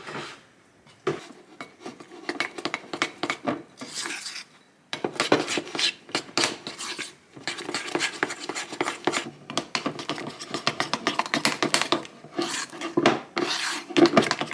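Orange food coloring being stirred into cream cheese frosting in bowls, a utensil scraping and rasping against the bowl in uneven bursts with brief pauses, close and fairly quiet.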